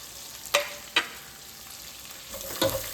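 Mustard seeds, ginger, garlic and green chili sautéing in a pan, with a faint sizzle under a few sharp, close clacks of a spoon against the pan.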